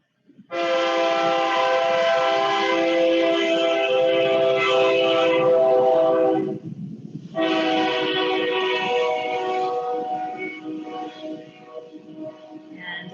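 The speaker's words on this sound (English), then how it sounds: "as our friendly train makes its way back past the studio" A loud train horn sounds a long sustained blast, breaks briefly, then blares again and slowly fades, with rumbling rail noise beneath.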